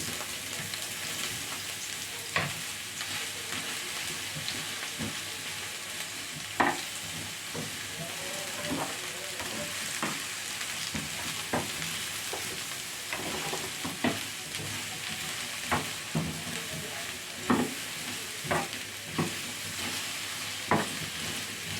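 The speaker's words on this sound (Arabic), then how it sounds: "والبدنجان بتاعنا بيستوي" Eggplant fries quietly in a pan with a steady low sizzle, broken by scattered soft stirring clacks and small pops, with no talking.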